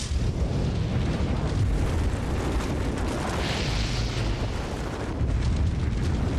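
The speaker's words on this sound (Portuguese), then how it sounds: "os efeitos de uma explosão nuclear em uma casa ou uma população" A nuclear bomb test explosion roars as a dense, sustained rumble and blast, loud and continuous with no voices, swelling and churning throughout before a renewed low surge near the end.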